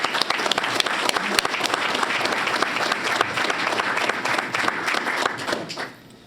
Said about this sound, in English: extra round of applause for this chess team.